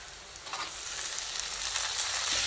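Tomatoes hit hot oil for a vegetable biryani, a loud, bright, continuous sizzle that builds slightly and stays steady throughout, close and alone.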